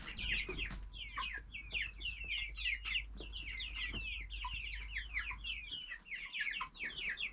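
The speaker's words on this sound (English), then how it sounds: "as we come away from the chicken coop there, you could see there was quite a few young chickens, quite a few pullets in there" Young chickens and pullets cluck continuously in a chicken coop on a rural homestead in central Portugal. The overlapping clucks are quiet and fairly near, with a low background hum.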